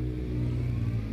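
Steady engine drone of a motorcycle revving, close and loud, holding a continuous low rumble with little change over the short moment.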